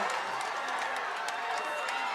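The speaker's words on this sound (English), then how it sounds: "Crowd on its feet" Homecoming-night football crowd in Branson roars continuously, a dense bright wash of cheering and shouting from a packed high school stadium, steady and fairly loud throughout.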